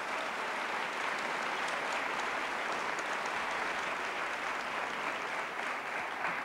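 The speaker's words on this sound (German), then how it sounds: "wenn Sie klatschen, das klaut nur Zeit." Sustained audience clapping during a live debate event, fairly distant and even, a steady wash of hands for several seconds without talk.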